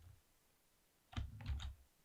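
Typing on a computer keyboard, a short quiet burst of a few soft key clicks in close succession after a near-silent pause, with no voices.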